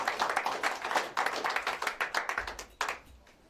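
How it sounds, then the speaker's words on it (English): A small audience at a Boston Tea Party marker dedication gives a short round of applause for a speaker. The claps sound fairly close and individually distinct, and they thin out toward the end. "let's have a nice round of applause for Steve Nelson"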